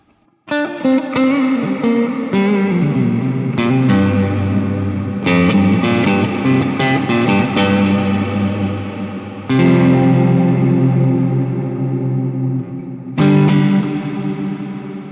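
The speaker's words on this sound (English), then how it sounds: "As you can hear, it's an incredibly high quality reverb." Guitar chords ring out heavily processed through a reverb effect pedal, with long reverb tails and shimmering effects, struck several times and left to wash and decay.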